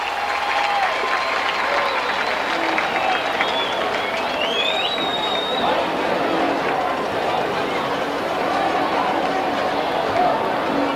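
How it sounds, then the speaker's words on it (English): A large, packed crowd at a 1999 high school football game between PN-G Indians and Lamarque Cougars roars and claps in a continuous, dense wash of applause and cheering that holds steady throughout. "Let's listen in to the PNG crowd."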